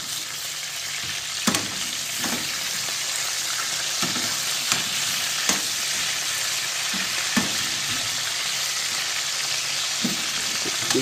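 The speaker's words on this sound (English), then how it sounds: "chicken back frying up" Steady crackling sizzle of chicken backs frying in a pan, with occasional louder pops and spatters over a continuous hiss.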